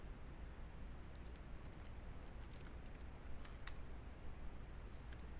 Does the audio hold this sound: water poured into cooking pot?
no